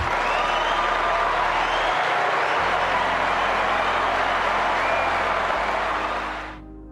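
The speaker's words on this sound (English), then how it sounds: "That's a round of applause." A crowd's sustained round of applause on a podcast, dense and steady for several seconds before cutting off abruptly, with a low hum underneath.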